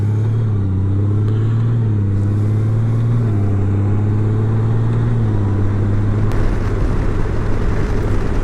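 A Honda Goldwing motorcycle is ridden home, its engine humming loud and steady with gradual pitch shifts as it changes speed, and wind noise rising toward the end.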